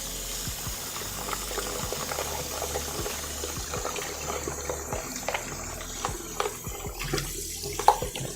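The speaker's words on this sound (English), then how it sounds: "Here, let me just rinse this out quickly." Tap water runs steadily into a container being rinsed at a kitchen sink, a close continuous splashing rush with a few small knocks toward the end.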